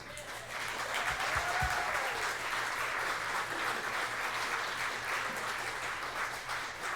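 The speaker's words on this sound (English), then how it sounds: "Give yourself a round of applause." A crowd at a Democratic meet and greet in Ste. Genevieve claps together, an even, moderately distant patter of many hands that continues steadily for several seconds, with a faint voice briefly rising early on.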